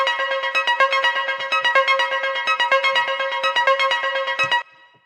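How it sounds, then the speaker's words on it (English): A basic synth arpeggio runs through a Valhalla Vintage plate reverb at its default setting. Rapid, evenly pulsing bright notes repeat for about four and a half seconds, then the line stops and a short reverb tail decays. "So I picked out a sound for this example here, just a basic ARP."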